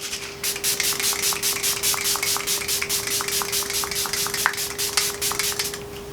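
Rapid repeated hissing bursts of a spray bottle being pumped, close and steady, around two dozen quick sprays in a regular rhythm.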